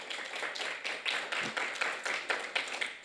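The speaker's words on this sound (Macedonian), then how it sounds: "може еден аплауз за нив" An audience at the closing ceremony of the 14th Philosophical Film Festival claps in a quick, fairly regular rhythm. The applause is moderately faint, with no talking.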